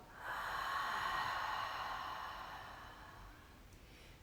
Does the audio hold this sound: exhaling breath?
yes